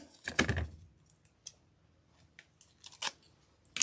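Scissors snip a floral stem for an English cottage grapevine wreath: one loud close cut followed by a few fainter clicks and rustles in a quiet room.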